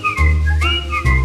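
A melodic whistled phrase sounds over a sustained orchestral accompaniment in a French chanson, a few gliding notes rising and falling, clear and up front.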